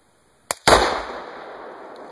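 An AR15 rifle shot sets off a two-pound explosive charge packed into a tree: a sharp crack, then a heavy blast right after, with a long rumbling decay outdoors.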